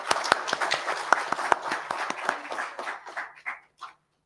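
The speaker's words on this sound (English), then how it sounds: "A huge round of applause for them." An audience at the PakDreamin23 keynote in Islamabad claps, sharp hand claps close by that thin out and fade to a few scattered claps before silence.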